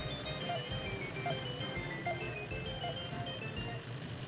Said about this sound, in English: Did you all hear like a beep, beep, beep?